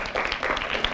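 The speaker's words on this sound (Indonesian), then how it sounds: "kita tepuk tangan dulu supaya lebih semangat ya" Applause from a studio audience at a school quiz competition, a short, dense burst of many hands clapping at moderate level with no talk over it.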